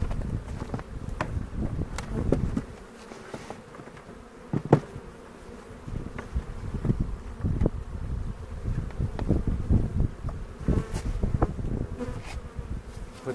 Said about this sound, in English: we want to hear the bees that we take away here start to make sound